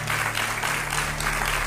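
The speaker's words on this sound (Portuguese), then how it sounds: "Um aplauso para os três" Studio audience applauding a TV talk show's guests, among them an orthopaedic doctor, a steady dense wash of clapping over a low hum, continuous throughout.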